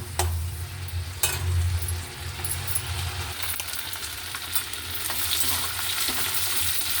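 Vegetables, eggplant among them, fry in a pan with a constant close sizzle, marked by several sharp clatters and scrapes of stirring early on and sparser ticks later, with nobody speaking.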